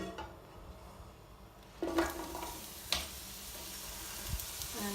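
Sliced mushrooms dropped into hot olive oil in a pan, a quiet steady sizzle with a couple of soft clattering bumps as they land, faint and close.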